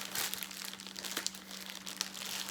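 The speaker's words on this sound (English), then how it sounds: "I'm trying to tear the bag" An Amazon plastic package bag crinkles and crumples up close as someone struggles to tear it open, giving a steady rustle with a few sharper snaps. No one speaks.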